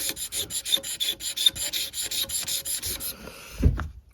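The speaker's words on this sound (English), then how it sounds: "So I'm going to have to scrape the whole guitar." Rhythmic rasping strokes scrape the wood of a 1960 Gibson TG-0 tenor guitar, loud and close in an even back-and-forth cadence. The strokes stop with a brief knock at the end.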